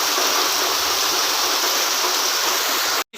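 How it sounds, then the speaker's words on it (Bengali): Heavy rain pours down alongside a swollen, rushing stream strong enough to shift stones, forming a loud, steady broadband roar that runs unbroken before cutting out abruptly near the end. "বৃষ্টি অনেক বেড়ে গেছে"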